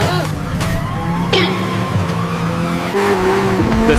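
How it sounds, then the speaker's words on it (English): A car chase through city streets, with a loud, close engine roar and repeated high tire squeals and skids that rise and fall. "A wild car chase raced through the city streets."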